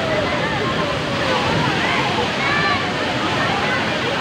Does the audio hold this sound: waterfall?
yes